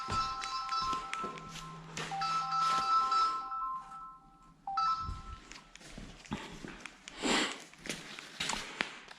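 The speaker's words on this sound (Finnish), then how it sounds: "Puhelinkin soitti." A mobile phone rings indoors with a faint, melodic electronic ringtone in repeated tonal phrases, mixed with light taps and footstep-like knocks nearby.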